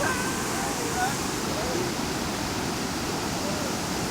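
Rushing river water roars in a loud, steady broadband wash, close and unbroken, with voices faint or mixed into the torrent.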